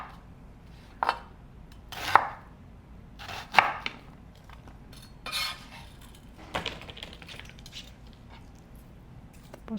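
Eggplant and onion are sliced on a cutting board for sinigang, a few distinct knife chops spaced a second or so apart, then softer scrapes and taps, close against a quiet background.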